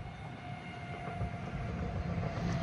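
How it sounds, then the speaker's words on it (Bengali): A Munich S2 commuter train on the Altomünster line rolls past close by in a German village, a steady loud rumble and rail roar that holds throughout without letup. "দেখেন এদিকে আবার ট্রেন যাইতেছে।"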